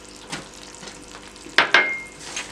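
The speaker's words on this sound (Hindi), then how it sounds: "इन सब नट्स को फ्राई करके" Nuts such as almonds, raisins and dates fry in a pan for a sweet jaggery rice dish, with a soft sizzle under a couple of sharp scraping stirs and clinks of a utensil against the pan.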